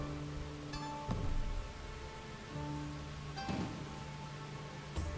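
Steady rain hisses in a night swamp in the video game For the King II, a soft, even wash under low droning game music.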